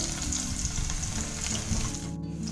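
Garlic, curry leaves and cumin frying in hot oil on a low gas flame, a steady close crackling sizzle throughout with no talking.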